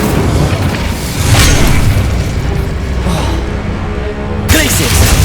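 Incendio fire spell cast in Hogwarts Legacy, a loud, sustained booming blast of flame with rumbling bursts that swell and ebb, ending in a fresh surge, over game sounds.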